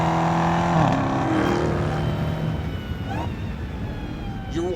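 A 2022 BMW M5 CS and a Dodge Charger Hellcat Redeye roaring continuously and loudly, with engine pitch rising and shifting throughout and no voices.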